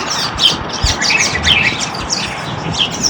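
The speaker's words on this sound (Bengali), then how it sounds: "অবশ্য আপনারা পাখির শব্দ শুনতে পাচ্ছেন।" Dense chorus of thousands of birds chirping and twittering in a cluster of trees, continuous overlapping calls close by and filling the air with no one speaking.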